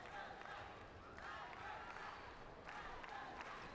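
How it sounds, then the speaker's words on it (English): Arena crowd at a wheelchair fencing gold medal match, the men's team épée final between France and China at the Rio 2016 Paralympics, cheering and applauding in a steady distant roar under a commentator's voice. "The crowd getting behind the fencers in this gold medal match, the men's Epee team event"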